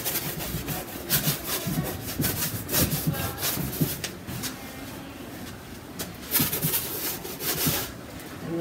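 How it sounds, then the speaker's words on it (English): A paintbrush scrubs white acrylic paint into a large canvas in steady, close, rhythmic rubbing strokes, with a few louder scrapes and no voices. "I'm just basically rubbing it in more than anything."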